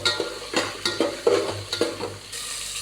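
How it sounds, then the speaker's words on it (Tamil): Garlic cloves, about fifteen, sautéing in oil in a pan, with repeated stirring scrapes in an uneven rhythm over a steady background sizzle, close and moderately loud. "ஒரு பதினஞ்சு பல் பூண்டு நல்லா எண்ணெயிலே வதக்கணும்"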